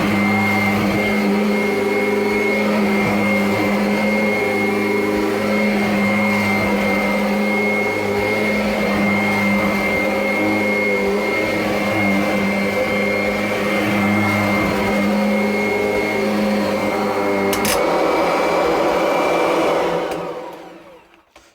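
A Kirby Avalir upright vacuum cleaner from 2017 runs steadily on carpet, a loud constant whining motor drone that holds for about eighteen seconds, then spins down and fades to silence.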